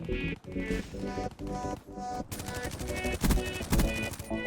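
Dingo light machine gun from Black Ops 3 firing in rapid automatic bursts within a multiplayer match, loud and close, with brief pauses before a sustained stream of shots over game effects.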